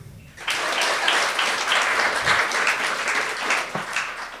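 A burst of audience applause from dog lovers at a Quebec comedy show starts abruptly after a short pause, staying full and steady, with some cheering mixed into the dense clapping.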